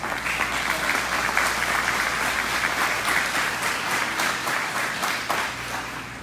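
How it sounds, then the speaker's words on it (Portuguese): A standing congregation gives a sustained round of applause in thanks at a Christian gathering, dense steady clapping filling the room without pause and no speech over it. "agradecendo a Deus com uma salva de palmas"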